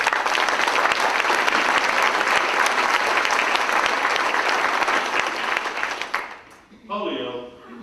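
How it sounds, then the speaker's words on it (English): An audience at an End Polio Now fundraising talk breaks into loud, dense applause that runs for about six seconds, then quickly dies away as a voice begins speaking. "Give yourself a round of applause."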